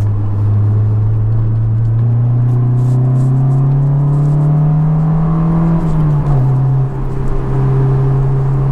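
A Honda S2000 AP1 sports car is heard from inside on the road. Its engine gives a loud, steady drone that rises in pitch, dips briefly at a gear change, then pulls on.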